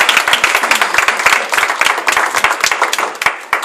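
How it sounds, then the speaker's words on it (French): Loud, close applause breaks out at a graduation ceremony for a Bible and theology school, a lively mix of distinct hand claps over a dense crowd wash, continuing briskly for a few seconds. "Nous vous demandons de les applaudir encore une fois."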